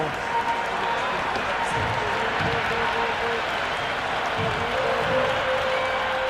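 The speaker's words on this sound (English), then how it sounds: "the crowd have joined the party. It's pretty noisy at the ground." Noisy crowd at a cricket ground in the video game Cricket 26, a Pakistan match, with a steady, dense wash of applause and cheering running loud throughout.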